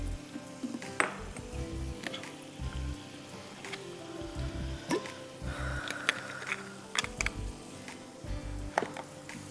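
Steady sizzling of food frying in a pan, with occasional clinks and stirring scrapes of utensils against the pan.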